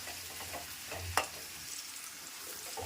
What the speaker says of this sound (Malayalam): സവാള നന്നായിട്ട് തന്നെ മൂപ്പിക്കണം